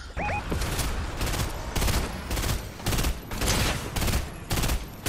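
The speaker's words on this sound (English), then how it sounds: "Got a fucking minigun." Sustained automatic fire from a minigun in the chaotic shooter Reload, a continuous loud rattling stream broken into several long bursts with brief gaps between them.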